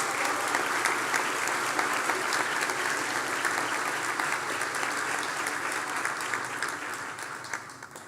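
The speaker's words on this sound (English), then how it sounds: "Please give all the graduates a round of applause." Sustained applause from a graduation ceremony audience honoring dietetics graduates in health sciences: dense, steady clapping that fills the hall for about eight seconds, tapering slightly toward the end.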